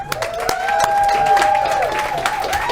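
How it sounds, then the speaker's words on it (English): An audience applauds and cheers for a composer and pianist introduced on a talk show, with steady clapping throughout over a sustained musical tone. "So please, a round of applause"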